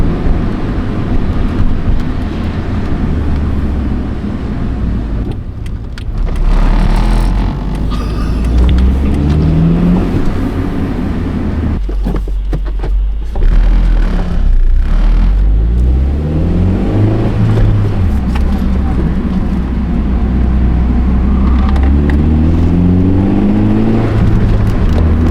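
A modded Honda Fit with a short shifter drives along, its engine drone and road rumble loud and steady throughout, with rising and falling pitch as it revs and shifts.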